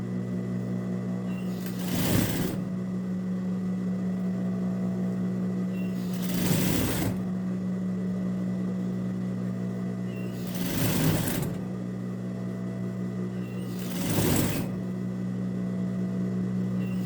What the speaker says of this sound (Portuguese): Vou costurar com elástico aqui dentro, solto aqui dentro.